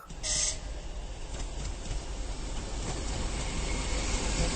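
A train runs along a repaired railway line with a steady rolling rumble and rattling wheels. The sound is continuous and fairly loud, opening with a brief sharp squeal or hiss.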